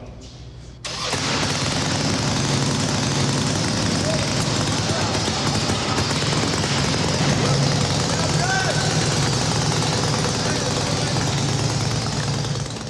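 A custom chopper motorcycle engine starts up and settles into a loud, continuous rumbling idle close by, with people talking over it.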